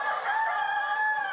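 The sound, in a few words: chickens and rooster crowing in an organic barn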